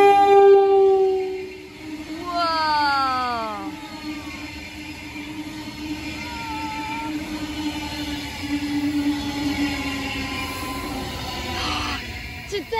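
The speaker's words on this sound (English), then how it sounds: "Here comes the train." A train horn blares and slides down in pitch as the train passes close by, then the rumble of the rolling cars fades off.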